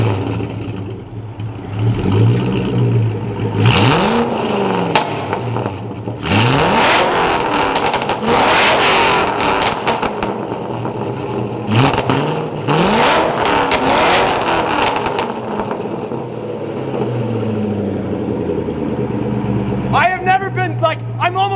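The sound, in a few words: straight-piped Ford GT engine revving in parking garage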